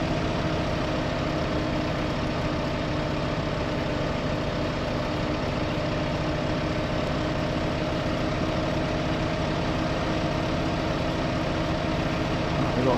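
Tractor engine in Farming Simulator 15 on PS4, driving off-road across a farm map toward a biogas plant; a steady, loud low engine drone that runs throughout with no break.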